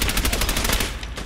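Gunfire in the video game Fallout 4: a rapid burst of repeated shots in quick automatic rhythm, loud and continuous for about a second before tapering off.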